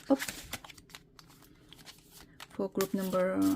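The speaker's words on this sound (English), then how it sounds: "So I'm going to shuffle." A deck of tarot cards is shuffled with papery riffles and soft slaps, followed by a person talking.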